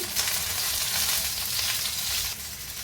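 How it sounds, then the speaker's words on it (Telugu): Garlic cloves fry in hot oil, giving a loud, close, continuous sizzling hiss that holds steady and eases slightly near the end, with no talking. "అందుకు దించే ముందు 2 నిమిషాల ముందు వెల్లుల్లి రెబ్బలు వేసాను"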